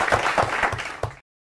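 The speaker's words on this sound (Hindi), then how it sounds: "खान सर के लिए बहुत जोरदार तालियां" An audience at a live show claps for Khan Sir in a short, dense burst of applause that stops abruptly after about a second.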